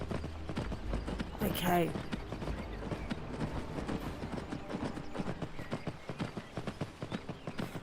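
Horse hooves clip-clop in a steady, fairly loud walking rhythm in Skyrim VR, with a brief whinny early on and a voice talking over the game sound.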